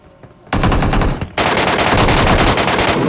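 Loud MK14 rifle fire in a battle royale shooter rattles out as a brief burst, pauses for a moment, then resumes as a longer rapid volley close up.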